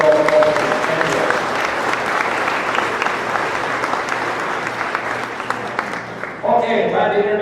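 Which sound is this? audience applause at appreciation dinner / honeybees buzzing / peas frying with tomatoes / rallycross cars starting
audience applause at appreciation dinner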